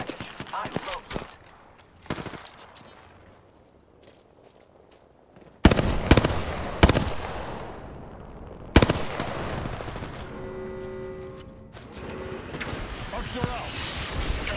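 Gunfire erupts in Apex Legends: several loud, sharp shots and rapid machine-gun bursts crack close by, with quieter shooting and in-game voices in between.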